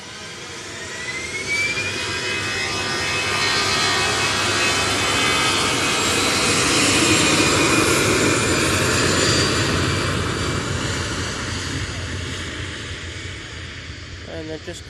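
Emirates jet airliner at Manchester Airport, engines roaring in a long swelling rumble that builds to a peak around the middle and slowly fades, with a rising turbine whine heard from a distance.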